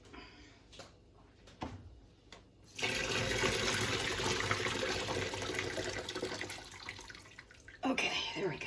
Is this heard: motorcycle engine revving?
no